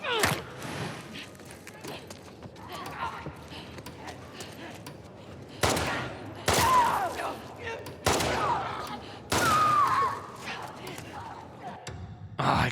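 Gunfire in The Last of Us Part II, played on grounded difficulty as Abby: several sharp, loud shots in separate bursts, spaced a second or two apart over quieter game ambience and faint movement.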